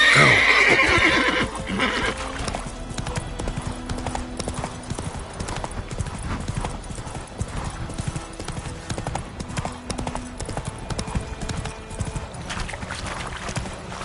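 Horse hooves gallop in The Witcher 3 with a fast, steady clip-clop rhythm running throughout, a whinny near the start, and game music and ambience underneath.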